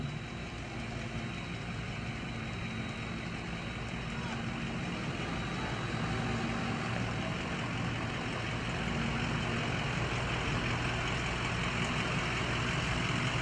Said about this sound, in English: here comes a vehicle